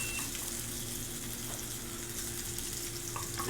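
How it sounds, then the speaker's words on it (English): Loud, steady sizzling of fish searing in a very hot pan, continuous crackle with a faint hum underneath and no talking. "We're gonna go ahead and sear our fish here."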